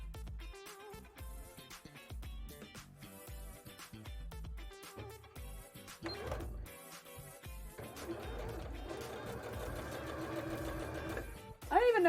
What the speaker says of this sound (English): I'm gonna sew it anyway